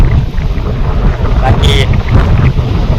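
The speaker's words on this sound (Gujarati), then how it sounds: "વાદળ અને પવન સાથે ઝડપ અને થોડા થોડા વરસાદના છાંટા પડે છે" Strong storm wind gusts through Nava Lonchda village before a cyclone, with light spits of rain among the coconut palms. The wind buffets the microphone loudly throughout, and a voice speaks briefly.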